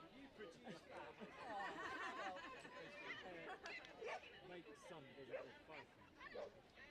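A Border Collie cross Labrador at an agility festival main ring barks and yips in short bursts, fairly faint and distant beneath louder commentary and crowd chatter.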